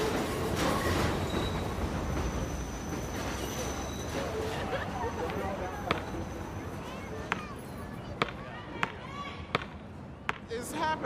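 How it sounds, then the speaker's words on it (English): A subway train rumbles past in a city neighbourhood, loud and close, with rail noise giving way to a string of sharp knocks and clacks near the end. Voices can be heard under it. "The subway right there"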